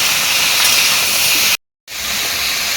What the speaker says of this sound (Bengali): হাতা দিয়ে ভালো করে হলুদ এবং লবণের সাথে আমি এঁচুড়টাকে ভালো করে ভেজে নেব।